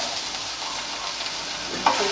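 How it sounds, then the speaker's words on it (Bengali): Mustard frying in a pan gives a continuous soft sizzle and hiss, close and even, with a single brief clink near the end, no talk. "সরিষাটা আমরা একটু ভেজে নিব"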